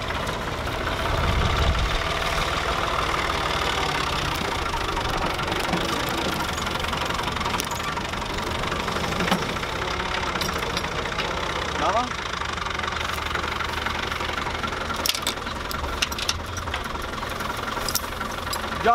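A tractor engine runs steadily in a wheat field being prepared for sowing, a continuous loud throbbing drone with knocking idle texture, mixed with broad outdoor noise throughout.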